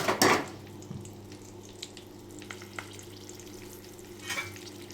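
Three green chillies frying and being stirred in a pan with cardamom, cinnamon and bay leaf for a dhaba-style cashew paneer butter masala, a steady close sizzle with a loud scrape of stirring at the start and light utensil clinks.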